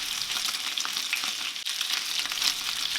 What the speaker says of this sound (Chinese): 等到听到锅底的声音都是有那种滋滋的油声的时候呢，就可以打开盖子